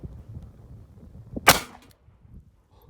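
A single sharp report from a .38 Special shot shell round fired once, loud and near, cutting through low background rumble and then fading quickly.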